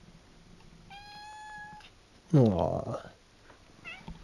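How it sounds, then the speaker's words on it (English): A pet cat gives one drawn-out, clear meow up close in a quiet room, followed by a person's brief cooing reaction. "She's going to be meowing anyways."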